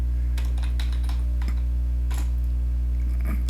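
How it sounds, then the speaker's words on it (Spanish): A computer keyboard is typed on in short, close bursts of clicky keystrokes with brief pauses between, over a constant low electrical hum. "para crear una tabla en nuestra base de datos, pues simplemente basta con teclear lo siguiente"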